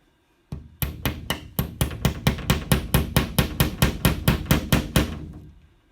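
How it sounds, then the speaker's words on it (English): A metal pick hammered into a wall through a plastic sheet: about eighteen sharp, loud, evenly spaced blows in quick succession, close and alone. "hammer the pick into the wall through the plastic sheet"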